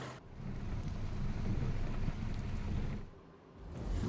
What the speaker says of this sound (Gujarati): ભારે પવન સાથે વરસાદ વરસ્યો।